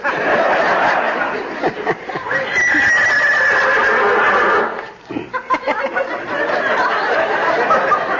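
A horse whinnies loudly and at length, a shrill neigh with snorting and breathy sounds around it, close by.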